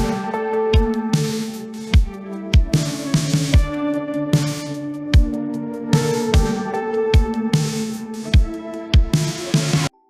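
Music generated by Meta AudioCraft plays on its own, with sharp struck percussive hits in a regular pattern over sustained tonal notes, loud and clear, with no voices.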